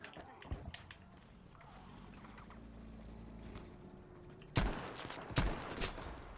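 Gunfire in the Battlefield V video game: a few sharp shots, then a louder burst of rapid fire near the end over a low rumbling background.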